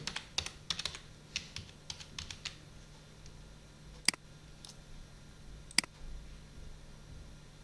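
Keyboard typing while entering text into a text box on a computer, heard as short irregular bursts of key clicks, followed by a few isolated sharper clicks, close and fairly quiet with no talk.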